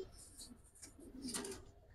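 Pigeons at a Bangladeshi pigeon market, silver-generation Palla-line birds, giving faint, soft cooing in short bursts against a low background murmur.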